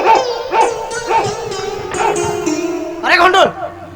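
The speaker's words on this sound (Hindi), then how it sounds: "सर कुत्ता है।" A small dog yaps in a series of quick, loud barks and yips at an uneven rhythm in a comedy sketch set in a classroom, close by.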